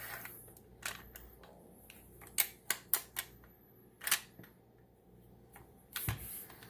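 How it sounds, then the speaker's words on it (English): Metal parts of a Remington 870 shotgun being reassembled, the bolt pushed back into the receiver, giving a quick cluster of sharp close clicks and snaps, then a final clack. "You just push them in as you push the bolt back into the receiver, and you got it."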